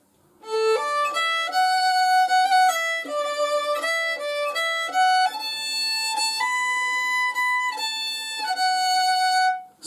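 A solo fiddle plays a lively tune, bright bowed notes moving quickly up and down in a steady rhythm, close and clear with no talking.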